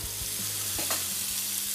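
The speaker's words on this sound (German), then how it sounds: "Einfach in kleine Würfel schneiden und ab damit in die Pfanne. Nur so ein bisschen anschwitzen das Ganze." Diced sweet potato sizzles gently in a frying pan, a steady soft hiss of frying that runs continuously under a faint low hum, with no voices.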